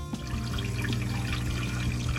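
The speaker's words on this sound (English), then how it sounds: "So turn on the water pump." A 12-volt water pump in an RV runs with a steady, continuous hum and the rush of water flowing through the lines, holding level and close from start to finish.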